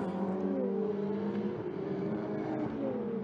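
A Ferrari Challenge race car laps Misano World Circuit, its engine note whining and shifting pitch steadily as it rounds a turn toward the timing line, loud and close with no talk.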